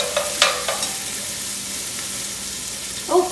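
Garlic fries in a pan over medium heat, a soft sizzle broken by a few clinks and stirring scrapes, with a louder scrape near the end.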